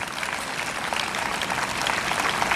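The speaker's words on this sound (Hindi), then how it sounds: "एक बार स्वागत में पवित्र आत्मा का ताली बजा के स्वागत करते हैं।" A church congregation claps together in steady, dense applause to welcome the Holy Spirit, a loud even wash of hands that keeps going from start to finish with no voices over it.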